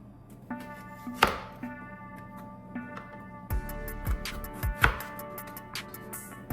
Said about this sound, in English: I think I will maybe cut these in half.